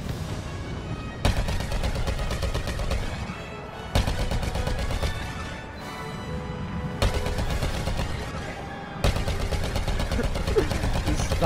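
Rapid bursts of gunfire from a U-wing gunship in Star Wars Battlefront, sustained volleys broken by brief pauses and heavy booms, loud and dense throughout.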